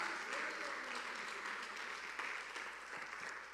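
A church congregation applauds at a Tuesday evening gathering, sustained clapping at moderate volume, somewhat distant and roomy, with a faint voice or murmur underneath.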